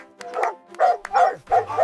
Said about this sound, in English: It's a seal.